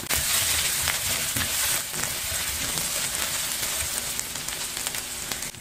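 Garlic and onion sauté in a frying pan with a small amount of oil, a steady close sizzle and crackle that continues without pause and with no talking.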